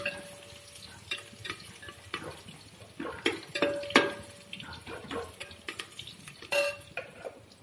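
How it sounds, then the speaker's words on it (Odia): Dal being tempered in a pressure cooker in a home kitchen: quiet sizzling under clinks of utensils and scattered stirring knocks, with a faint steady tone running through. "ଡାଲିଟା ପ୍ରେସର୍ରେ ଛୁଙ୍କ କରିକି ସେଥିରେ ବସେଇ ଦେବି।"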